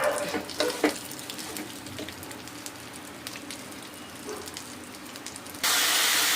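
Water is poured into a pan of roasted vermicelli while making sweet kesari prasadam, giving a steady hiss and splash through most of the stretch before a louder, harsher sizzling rush near the end.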